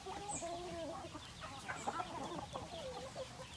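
Native chickens on a poultry farm cluck and call in short, wavering bursts, several birds close by with a soft farmyard background behind them.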